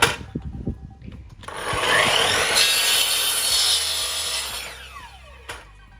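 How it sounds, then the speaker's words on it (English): A hand saw makes a test cut through a wooden board in a small workshop, a steady rasping stroke that builds after a brief knock, holds loud for several seconds, then tapers off as the cut finishes. "Let's do a test cut first."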